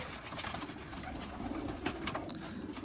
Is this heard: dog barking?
no